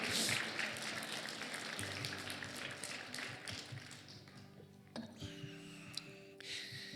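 A church congregation applauds during a sermon, a broad, steady wash of clapping that gradually thins and fades, with a few sharper sounds near the end.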